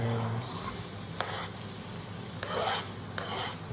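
Chilies, tomatoes and onions frying in a pan, a steady close sizzle broken by a few scraping stirs and light utensil clinks, with faint speech in places.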